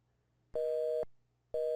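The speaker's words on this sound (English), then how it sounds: "The ringing resounded in the quiet afternoon." Two electronic telephone tones, each about half a second long, sounding alone in a quiet room, one after the other with a pause between them.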